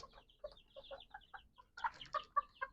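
Several backyard farm chickens cluck in short, irregular bursts, moderately close and fairly quiet, with a few louder calls near the end and no talking.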